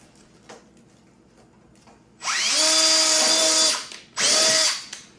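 Power drill boring a hole into a wall: after a few faint clicks, two loud, close high whining bursts of the motor, the first about a second and a half long, the second shorter.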